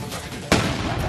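Sudden explosive blast of sodium, a sharp loud boom cutting through ongoing noise and followed by a sustained roaring wash of sound.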